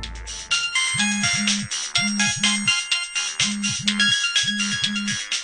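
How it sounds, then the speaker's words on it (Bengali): A phone resting on a table rings with a bright electronic ringtone melody, its pulsing tones repeating in pairs over a rhythmic beat, loud and near with no talking. "হঠাৎ টেবিলে রাখা সর্বার্থর ফোনটা বেজে ওঠে।"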